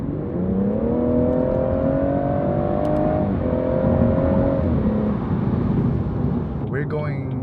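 2017 BMW 440i Gran Coupe M-Sport being driven, a steady loud engine and road drone with gently rising and falling harmonic tones, heard from inside the car with no talking.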